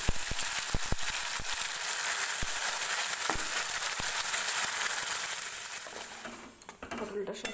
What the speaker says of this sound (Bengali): এবার রসুনটা একটু ভাজা ভাজা হয়ে এসছে।